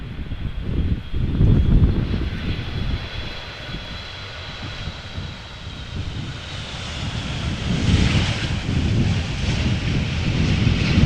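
A Boeing 757 in special livery arrives at Amsterdam Schiphol on a crosswindy day, its jet engines roaring steadily at a distance, with wind buffeting the microphone and the rumble swelling again toward the end.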